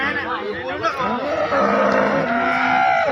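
A cow moos loudly nearby at the Sangola livestock market, a long drawn-out low call, with crowd chatter in the background.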